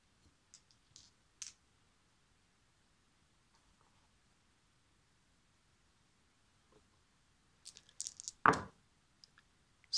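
Eight-sided and six-sided dice rolled for a tabletop wargame: a few light ticks, then a short clatter and a sharp tumbling rattle of small dice on a surface around the eighth second, close and alone in a quiet room.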